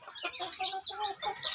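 Farm chickens clucking nearby in a poultry pen, several quick soft clucks and squawks in a short burst, fairly faint.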